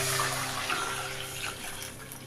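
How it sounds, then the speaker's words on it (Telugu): Water is poured into a pot of dal for pappucharu, a steady close splashing and gushing pour that runs throughout and fades slightly toward the end, with no talk. "కొంచెం వాటర్ వేసుకోవాలండి."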